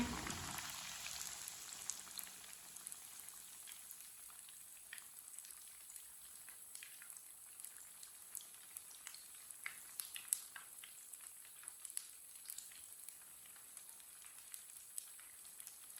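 Aloo tikki, spiced potato patties, frying in a pan, giving a soft, steady sizzle with fine crackling pops throughout, fairly faint and continuous with no voices.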